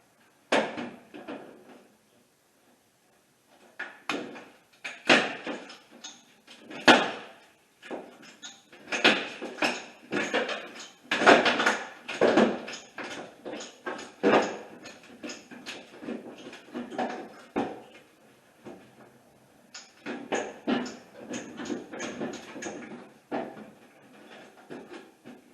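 Work on a seized fastener on a 1974 Chevy Camaro brings irregular bursts of metallic clanking, scraping and knocking, close and fairly loud, separated by short silent pauses.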